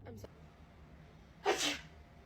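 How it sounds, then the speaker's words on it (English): A single sharp human sneeze bursts out near the middle of a short comedy sketch, with a faint vocal sound just before it. "I sneezed."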